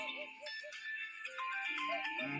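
A mobile phone ringtone plays continuously as a steady electronic melody with repeating tonal notes, fairly faint and heard on its own without speech.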